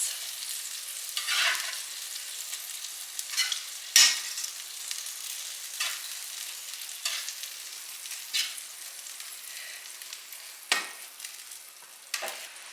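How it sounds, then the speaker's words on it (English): Meatballs dropped into a pan of boiling sauce, soft intermittent sizzling and bubbling broken by a few sharper splashes and clinks, close and fairly quiet, with no talking. "put them into this pan with the boiling sauce"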